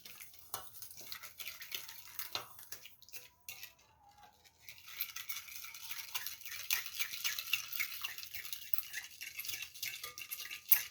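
Orange juice and peel being stirred into a cookie dough mixture, giving close, irregular scraping and clicking of a utensil against a bowl, with a brief pause partway through.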